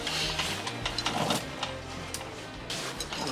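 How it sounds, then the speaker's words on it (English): A torque wrench tightening engine bolts on a Tomos Nitro 50 scooter during engine reassembly, a close mechanical clicking and ratcheting sound with steady rapid ticks, fairly quiet and with no talk. "Need a torque wrench for that"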